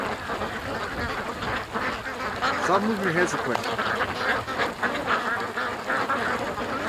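Ducks quack repeatedly in a yard, a busy, fairly close chorus of calls that runs through the clip while someone talks over it.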